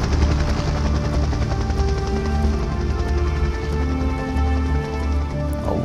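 A helicopter in the Splinter Cell video game (PS2) chops with a steady, loud rotor thrum throughout, alone with no talk.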